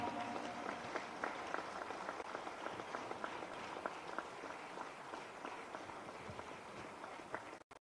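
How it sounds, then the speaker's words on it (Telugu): An audience claps steadily through a spiritual gathering at a Sri Datta Foundation logo unveiling, dense continuous applause from a crowd at moderate distance, ending abruptly. "గట్టిగా చప్పట్లు కొట్టండి ఒకసారి"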